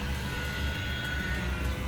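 A HobbyZone Champ small electric RC airplane flying over a front yard gives a faint, steady motor hum with a thin whine, continuous and distant under outdoor background noise.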